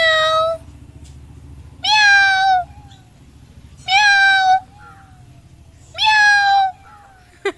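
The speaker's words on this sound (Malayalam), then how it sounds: "നമ്മുടെ സ്ഥിരം പൂച്ചയാണ് കേട്ടോ. അതെപ്പോൾ നോക്കിയാലും മ്യാവ് മ്യാവ് മ്യാവ് പറഞ്ഞുകൊണ്ട് നമ്മുടെ വീടിൻ്റെ പരിസരത്ത് കൂടെയൊക്കെ നടക്കും" A cat that roams near a house meows four times, each call clear and close, with short pauses of quiet between them.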